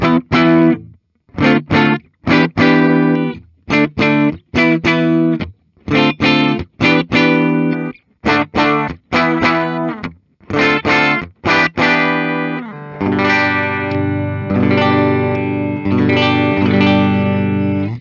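Clean electric guitar chords on a 2018 Gibson, strummed in choppy, rhythmic bursts with chorus-like shimmer, ending in a sustained ringing chord; no talking.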